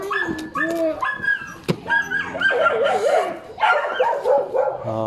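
Several dogs at an anti-rabies vaccination station bark and whimper in quick succession, yips and whines overlapping at close range, loud and busy throughout.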